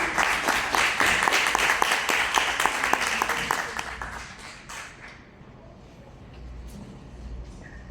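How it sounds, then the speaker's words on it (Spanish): Audience applause welcoming a speaker to the podium at an academic talk, dense clapping for about five seconds before fading into quiet room noise with a few stray claps. "Recibámosle con un fuerte aplauso al Magíster Yesid."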